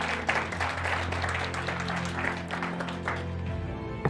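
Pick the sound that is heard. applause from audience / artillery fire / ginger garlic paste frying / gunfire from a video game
applause from audience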